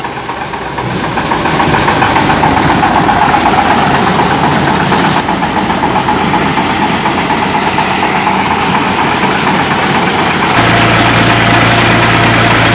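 A Massey Ferguson 241 DI diesel tractor engine runs steadily at about 1100-1200 RPM, a loud, close, continuous rumbling drone with a slight knocking character and no talking.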